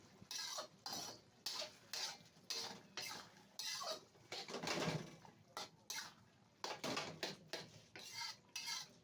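A spoon or spatula scrapes and clanks against a metal cooking pot of menudo in rhythmic stirring strokes, close and fairly quiet, with faint bird cooing in the background.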